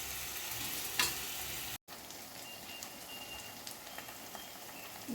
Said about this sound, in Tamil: தக்காளி நல்லா வதங்குற அளவுக்கு வச்சுருக்கோம்.